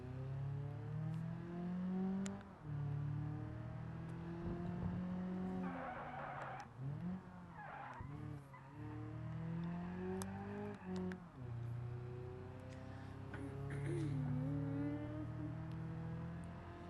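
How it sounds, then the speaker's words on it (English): A race car on a track during practice warm-up laps, its engine droning loud and close throughout, with pitch rising and falling through gear changes and a tire squeal or skid around a corner midway. "we are going on to the track for some practice warm-up laps"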